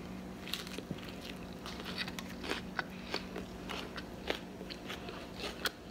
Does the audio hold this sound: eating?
yes